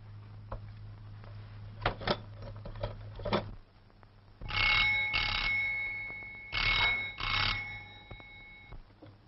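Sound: telephone being used

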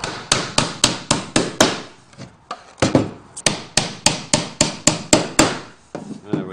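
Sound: hammering a nail into a wooden stool

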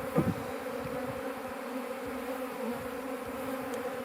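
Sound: honeybees of a swarm buzzing

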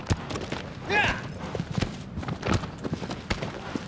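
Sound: horse hooves galloping in video game

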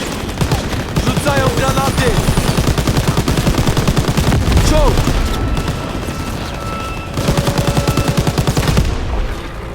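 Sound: gunfire from a video game, Call of Duty WW2 armored train

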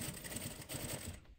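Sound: sewing machine stitching fabric

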